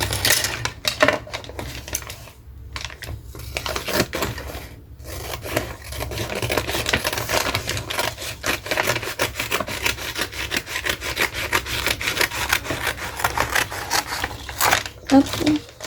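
Scrapbook case material is cut by hand in steady scraping, rasping strokes close up, with rustling and handling sounds throughout and a short pause partway.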